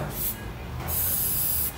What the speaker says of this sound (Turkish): VD40 sıkalım.